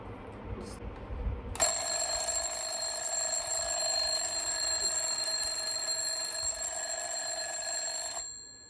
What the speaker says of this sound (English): an alarm clock. Like seriously, just because I don't, I'll show you how does it sound.